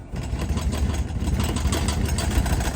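A Honda Civic EG engine idles with a steady low rumble, and a light metallic jingling rattle from the exhaust rides over it up close.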